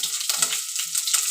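Green chillies fry in a pan for a pepper chicken dry dish, giving a steady, close hiss and sizzle throughout with a few faint stirring scrapes.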